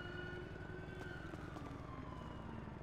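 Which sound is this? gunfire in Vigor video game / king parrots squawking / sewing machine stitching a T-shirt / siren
siren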